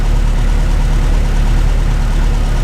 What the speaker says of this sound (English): You see it's idling high by itself, which is what you want.